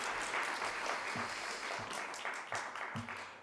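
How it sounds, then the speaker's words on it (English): Audience applause at a business pitch event, a steady wash of clapping that slowly fades, with a few faint voices under it. "Let's give them another round of applause."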